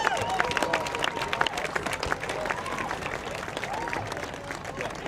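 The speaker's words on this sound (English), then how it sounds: "Let's give him a big round of applause." A crowd at a bass fishing tournament weigh-in applauds the champion with steady, dense clapping and scattered cheers, loud and close throughout, with voices mixed in.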